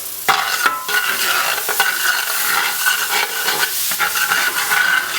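Garlic stirred into a hot roux for Cajun crawfish étouffée sizzles and hisses sharply up close, with bursts of scraping spoon strokes over a steady crackle, loud and unaccompanied by speech.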